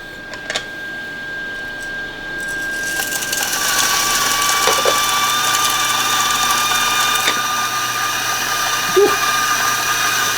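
A Timemore 078S electric coffee grinder grinds beans for espresso, a loud, steady whining motor that rises to full grind about three seconds in and continues with gritty crunching throughout.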